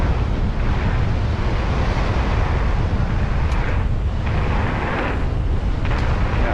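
Wind buffets the microphone during a mountain bike ride, a loud steady rushing roar with no clear pauses, drowning out any other sound.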